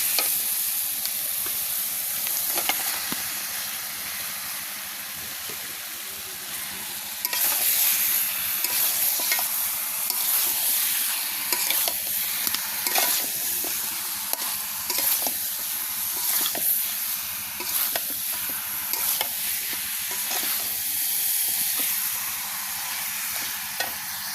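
Cut duck meat stir-frying in spice paste over a clay stove, a steady loud sizzle with repeated scraping stir strokes throughout, no voices.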